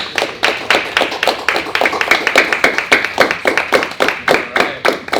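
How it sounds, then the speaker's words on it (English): A small group of students on a school field trip to a corporate office claps for a panel, with brisk, distinct handclaps in a quick, uneven rhythm, close and fairly loud throughout. "let's give them a round of applause"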